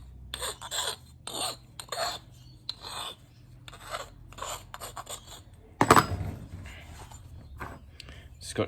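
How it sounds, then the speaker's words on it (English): An engine piston edge from a Holden grey motor is rubbed with a Scotch-Brite pad in short, repeated rasping strokes close by, with pauses between them and one louder scrape partway through. "Scotch-Brite just on the edge."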